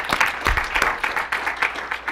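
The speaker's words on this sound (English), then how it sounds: "Let's give the organizers one more round of applause." Applause from a conference audience at a DevOps event, moderately loud and steady with rough clapping bursts through the short stretch, no voices on top.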